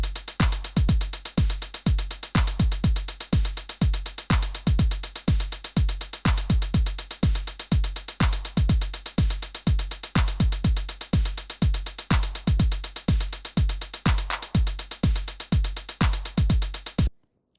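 Programmed drum beat loop with a steady, punchy kick pattern and sharp claps, repeating bar after bar with clap turnarounds every few bars, loud and continuous until it cuts off.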